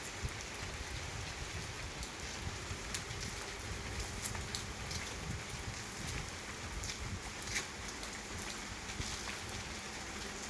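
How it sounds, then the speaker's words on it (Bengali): Steady rain falls in a constant even patter, with scattered louder drops hitting nearby surfaces; no voices. "কত সুন্দর বৃষ্টি পড়েই যাচ্ছে"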